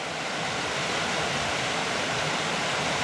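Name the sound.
small waterfall between lakes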